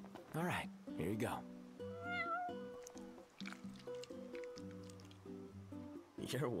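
A cat meows in the video game Final Fantasy XV, with a couple of short meows and wet squishy eating sounds set against soft game music.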